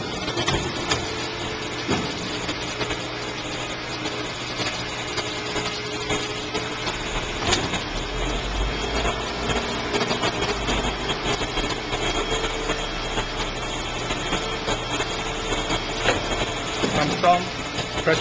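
A bending machine clamps down on a metal part and bends it, a steady mechanical hum and engine-like drone running throughout with clunks and a low thump near the middle, while a person talks over the machinery.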